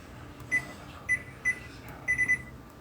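A microwave beeps as its timer is set, giving several short, clear electronic beeps, single ones and then a quick run of three, over a faint steady room hum.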